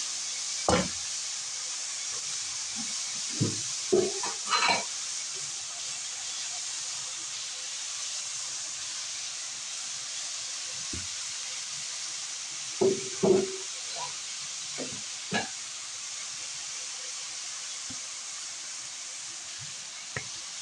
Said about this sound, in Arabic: نشوح فيه على ما الخضار بتاعنا ده يدبل